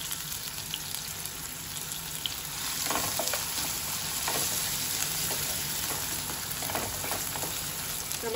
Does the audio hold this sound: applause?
no